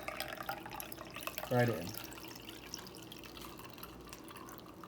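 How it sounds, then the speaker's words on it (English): Purple passionflower liquid is poured through a tea strainer into a wide-mouth mason jar, a short splashing gush midway through under a quiet, close voice. "Basically just hold the flower and pour that beautiful purple liquid"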